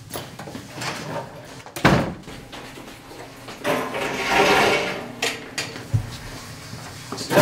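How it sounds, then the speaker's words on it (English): Classroom desks dragged and shoved against a door to barricade it: scattered scraping, knocks and wooden thuds in uneven bursts, fairly close, with no clear speech. "let's barricade the door. Get the desks over here."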